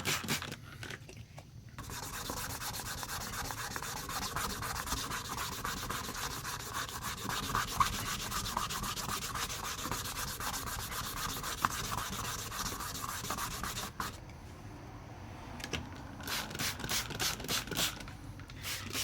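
Wet sanding of plastic headlight lenses with sandpaper, a steady rapid back-and-forth scrubbing rasp held close for most of the clip, with a short pause near the end before quicker strokes resume.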